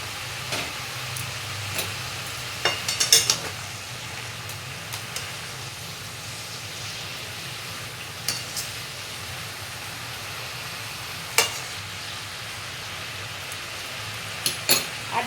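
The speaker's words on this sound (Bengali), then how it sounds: "শাকটা একটু মজে গেছে এবার তুলে দেবো কেটে রাখা ঝিঙেগুলো" Pumpkin greens and ridge gourd cook in a pan with a soft, steady sizzle. A utensil clinks against the pan now and then, and no one speaks.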